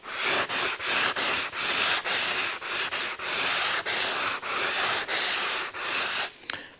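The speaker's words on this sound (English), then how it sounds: "Now I've got my soft sanders here versus my linear sanding blocks, the stiff ones" Hand sanding a BMW X5 body panel with soft sanding blocks over primer and sealer: a dozen steady scraping strokes, each about half a second, in an even back-and-forth rhythm, close and fairly loud, with no talking.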